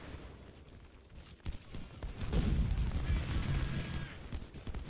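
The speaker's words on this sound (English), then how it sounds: "He's getting hit really bad by the artillery now." Artillery fire in the Civil War strategy game Ultimate General: Civil War at Antietam gives scattered sharp reports that swell into a heavy, rolling boom midway, close and loud.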